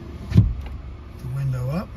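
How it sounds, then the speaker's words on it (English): Power window motor on a 2020 Hyundai Elantra Value whirring for about half a second with a steady rising hum, after a brief clunk, close inside the cabin. "The window up."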